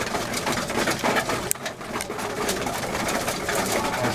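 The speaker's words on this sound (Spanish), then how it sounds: "Vamos a darle su comidita a las palomas." Pigeons coo steadily while being fed, a dense, continuous murmur of many birds close by, with a brief sharp click partway through.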